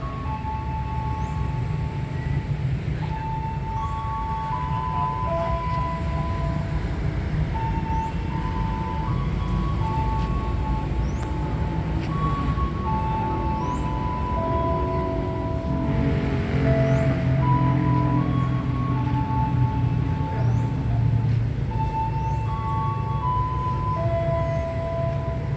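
A train passes straight through Tambun station in Bekasi, Indonesia, on the line toward Cikarang, a steady loud rumble lasting throughout with tonal hum and announcement-like tones layered over it.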